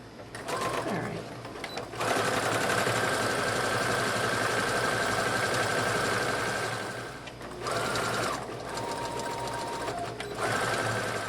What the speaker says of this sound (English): I'm going to take this back to the machine and I'm going to zigzag stitch right along this to finish that seam, prevent it from fraying.